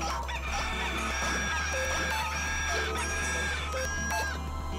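Chickens clucking and a rooster crowing in the video game Katamari Damacy Reroll, several rapid cackles and calls over a steady game music backdrop, no talking.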